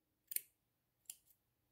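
Two quick snips of scissors cutting yarn strings for a knitted beanie, crisp and close, separated by a short pause in a quiet room.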